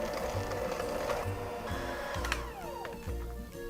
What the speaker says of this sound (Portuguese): Como a farinha de trigo a gente não pode desenvolver ela muito nessa batedeira, eu vou apenas só bater para misturar e desligar